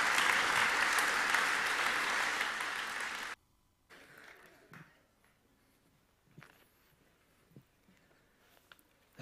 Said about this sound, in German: gebt ihm doch einen herzlichen Applaus